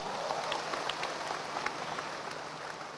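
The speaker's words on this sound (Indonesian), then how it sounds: "aplaus buat Anda Bapak Ibu" An audience at a business convention applauds, a dense, even wash of many hands clapping at a distance that holds steady for the whole stretch, with no one speaking over it.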